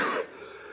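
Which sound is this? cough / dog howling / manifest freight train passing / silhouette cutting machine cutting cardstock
cough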